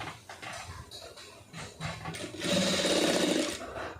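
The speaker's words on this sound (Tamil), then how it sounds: "இப்போ நான் அது ஃபுல்லாக எல்லாத்தையும் நான் அடித்து காமிக்கிறேன்" Sewing machine stitching a neck design on fabric, a steady close whirring run that grows louder and denser midway, with lighter mechanical chatter before it.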